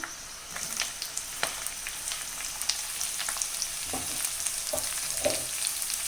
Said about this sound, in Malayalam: ഇനി ഇതിലേക്ക് നമുക്ക് 2 സവാള ചെറുതായിട്ട് അരിഞ്ഞു വെച്ചിരിക്കുന്നത് ഇട്ട് കൊടുക്കാം